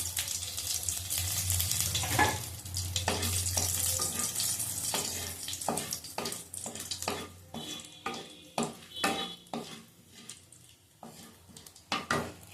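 Two dried red chillies hit hot oil with panch phoron, giving a steady close sizzle that later breaks into sharper spattering pops and crackles, with no talking.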